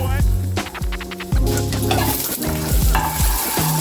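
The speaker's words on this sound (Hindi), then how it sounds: "यहाँ पर बटर के मेल्ट होते ही छोटा छोटा हम एक लहसुन डालेंगे।" Garlic cloves frying in melted butter in a kadhai, a close and steady sizzle with repeated scrapes and stirs of a spoon against the pan, no voices.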